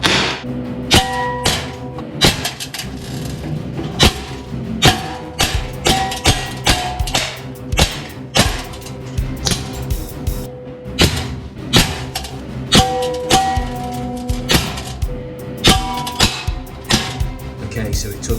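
Umarex P38 BB air pistol fired at steel zombie targets, a long irregular run of sharp snapping shots and metallic pings, some in quick pairs, over a continuous musical background.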